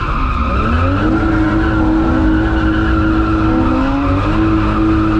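A drifting car's tires skid and squeal continuously under a loud, steady engine roar that rises and shifts in pitch as the car slides. No voices are heard.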